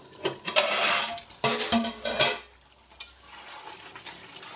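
Chicken and potatoes sautéed in a pan for a curry produce scraping stirs and light sizzling in short bursts, with occasional utensil clinks against the pan, close and fairly quiet.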